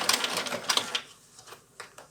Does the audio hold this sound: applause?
no